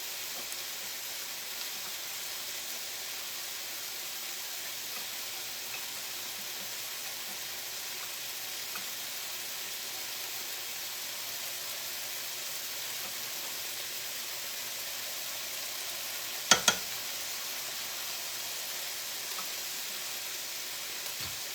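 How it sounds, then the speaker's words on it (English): Butter sizzles steadily in a frying pan with chicken and spinach, a constant hissing crackle throughout, broken once by a brief clatter. "I am going to put just a touch more butter in this pan."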